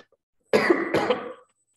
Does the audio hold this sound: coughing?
yes